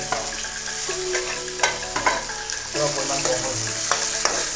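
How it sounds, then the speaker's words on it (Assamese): Fish and onions sizzle steadily in hot oil in a pan for a home-style curry, with a loud continuous fry and spatula stirs and scrapes knocking through every second or so, no talk. "ফ্ৰাই কৰোঁতে ইমান দেৰি গৈছে যে এতিয়ালৈকে মাছ ফ্ৰাই হোৱা নাই"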